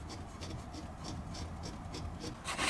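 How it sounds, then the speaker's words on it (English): A file rasps in quick repeated strokes against a burr on a Pontiac cylinder head, a faint, even scraping rhythm that grows louder in the final moment. "you gotta file away at a burr so you're not just tearing that through"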